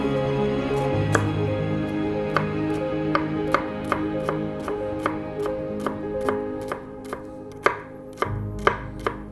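A shallot or onion is finely chopped with a knife: a quick, steady run of sharp, close knife strikes, about fifteen of them, over quiet background music.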